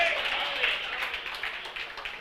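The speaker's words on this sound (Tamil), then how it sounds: "கைத்தட்டுங்க." A church congregation claps in a dense, sustained wash of applause through the whole stretch, with a voice partly mixed in.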